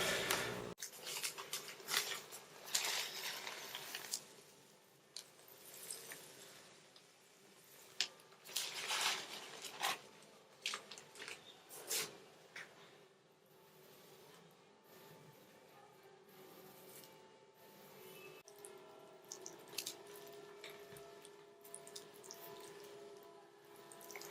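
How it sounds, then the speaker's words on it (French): A potted orchid seed tray topped with vermiculite is watered generously, giving soft splashing, trickling and dripping sounds that swell and fade in bursts, close by and with no talk. "Et je vais donner un bon arrosage."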